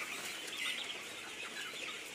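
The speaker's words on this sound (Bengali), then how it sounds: "এই যে দেখুন, একটি ঠান্ডা লাগা মুরগি।" Broiler chickens in a winter farm shed, a sick bird with a cold among them, give soft, indistinct clucks and rustling over a steady background hum, fairly faint and without talk.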